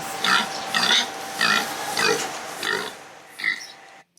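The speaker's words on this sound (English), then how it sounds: "Pig." Pig grunts in a loose rhythm, six or so short snorting bursts close by, with a faint steady hum underneath.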